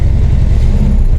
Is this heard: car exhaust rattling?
yes